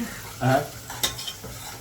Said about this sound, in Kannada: ಸೊ ಇವಾಗ ಇಷ್ಟು ಶುಂಠಿ ಬೆಳ್ಳುಳ್ಳಿ ಪೇಸ್ಟ್ ಹಾಕ್ತಾ ಇದ್ದೀನಿ ಗೈಸ್